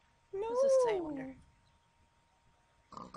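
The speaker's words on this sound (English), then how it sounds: "I just meowed" A single meow from a player character in the PenguinHunt video game, close and clear with a rising then falling pitch, followed by silence and a brief voice at the end.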